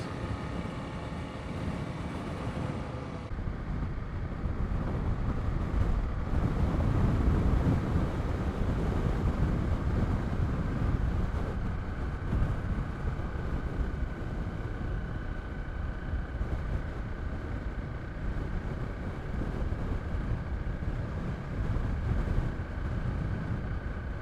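Strong headwind buffets the microphone of a motorcycle riding through the Meiringspoort pass in South Africa, a loud, continuous low roar and rumble lasting throughout with no talking.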